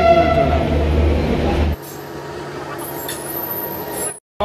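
A passenger train stands at a station near Patna, waiting to depart, with a loud rumbling drone that drops suddenly to a quieter hum and then cuts briefly to near silence.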